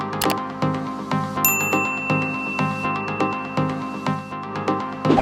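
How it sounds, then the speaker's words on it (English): A three-bar loop repeats on a Pioneer CDJ, its clear ringing bell-like tones and steady beat cycling in an uneven phrase, with a long high tone sustained partway through; moderately loud music with no talk. "The 3 bar loop sounds a lot different."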